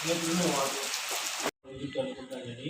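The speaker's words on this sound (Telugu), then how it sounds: "చూడండి ఎంత పెద్ద వర్షం పడుతుందో ఇక్కడ" Heavy evening rain pours down in a steady, dense roar close by, with one brief cut about halfway through before the downpour continues.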